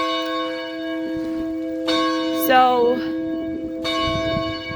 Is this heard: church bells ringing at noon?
yes